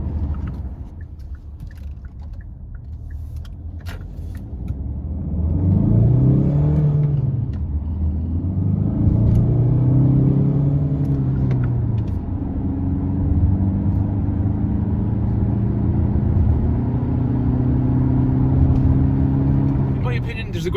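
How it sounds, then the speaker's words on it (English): A Kia Sportage 1.7 diesel accelerates hard onto a motorway from inside the cabin, the engine droning and climbing through several gear changes over a steady road rumble, with a voice talking over it. "we are going to try and accelerate just to see what this engine is like"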